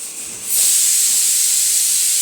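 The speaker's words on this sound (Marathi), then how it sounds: "कुकरच्या शिट्या होत आहे तिकडं" A loud, steady high-pitched hiss of a pressure cooker whistle starts abruptly after a quieter moment and continues without a break.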